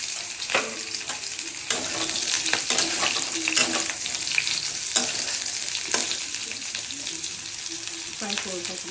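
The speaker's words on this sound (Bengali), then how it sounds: "ফ্রাই করে ভাজবো।" Chopped ridge gourd frying in oil with a bay leaf and dried chilli, sizzling steadily and close, with the scrape and clatter of a spoon stirring the pan at irregular intervals.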